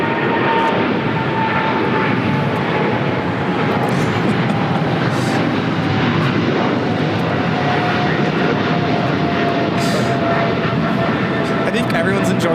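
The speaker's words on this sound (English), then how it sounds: "That was China Airlines Cargo 5382 taking off to Miami on a 777 freighter" A China Airlines Cargo Boeing 777 freighter takes off from LAX with a loud, continuous jet-engine roar that holds steady throughout, while voices talk faintly underneath.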